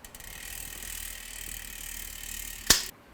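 A custom-painted 2021 Trek Slash mountain bike's drivetrain ratchets with a steady, close buzzing whir, then gives one sharp clack before it cuts off.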